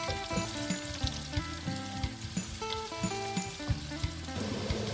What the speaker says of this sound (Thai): ผัดไปเรื่อยๆจนเขาเหลืองนะคะ